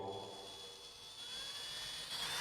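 A cordless lithium screwdriver running in hammer mode gives a steady high motor whine with a faint rattling undertone. The pitch climbs slightly toward the end. It is heard alone and fairly quietly.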